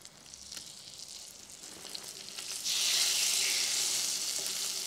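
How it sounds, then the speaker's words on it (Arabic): Fish fillet hits melted butter in a hot pan on high heat, setting off a steady sizzle that jumps louder about halfway through and holds as a close, bright frying hiss with no talk. "الزبده عندي دابت وهلا حراره المقله عاليه لحتى انزل بالسمك"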